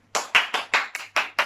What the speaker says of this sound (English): I'll just clap for myself.